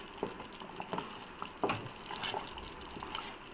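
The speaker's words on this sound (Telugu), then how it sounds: "బాగా తిప్పుతూనే ఉండాలి. చూడండి, బబుల్స్ కూడా వస్తున్నాయి." Beetroot halwa cooking in ghee in a pan while being stirred, giving soft bubbling and sizzling with faint, regular scraping strokes from the spoon, close and quiet.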